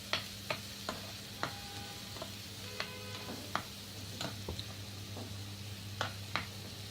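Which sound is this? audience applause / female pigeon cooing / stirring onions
stirring onions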